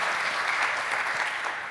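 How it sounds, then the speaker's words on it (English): A room full of people claps at an award ceremony, a short burst of dense, steady applause with no voices over it. "So big applause for them."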